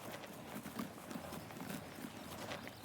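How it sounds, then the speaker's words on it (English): Dairy cows munch and shuffle in a barn in Farming Simulator 19, a steady soft rhythmic chewing and stepping under a constant ambient background hum. "You hear the cows munching in the background"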